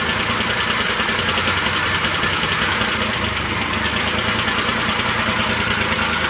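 The Suzuki Multicab F6A engine runs at a steady idle while its distributor is being tuned. A loud, close, continuous rumble with a slight knocking texture throughout.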